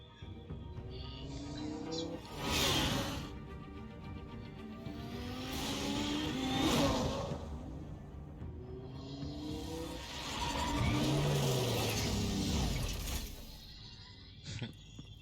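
Car engine in a Batman video game, rising and falling in several revving surges with whooshes and mechanical clatter, driving hard with no speech over it.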